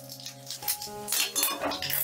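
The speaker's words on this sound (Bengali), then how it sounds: "ফোড়নটা একটু নাড়াচাড়া করে নেব।" Bay leaf, dried chilli and five-spice tempering stirred in hot mustard oil in a metal pan for a Bengali cabbage ball dish, with close metallic clinks and scraping of a utensil against the pan over a low background hum.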